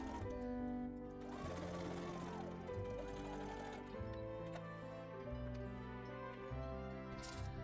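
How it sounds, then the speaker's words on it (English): A sewing machine stitches gathered ruffles onto a dress bodice, a steady close mechanical whirr with quick rhythmic needle chatter that stops and restarts several times, heard alone at low volume. "Once I gathered the ruffles, I pinned and sewed them to the back bodice."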